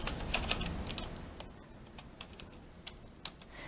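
Computer keyboard typing while entering figures into an Excel spreadsheet: a few quick clustered keystrokes near the start, then sparse single clicks, fairly quiet against a faint room background.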